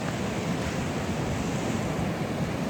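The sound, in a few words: ocean waves washing onto the shore and returning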